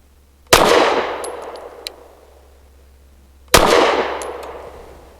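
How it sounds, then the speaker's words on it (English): Two loud pistol shots roughly three seconds apart from a BUL Armory Ultralight PRO firing 100 grain Blazer brass, each a sharp crack with a decaying tail, a faint metallic clink between them. "Definitely soft shooting."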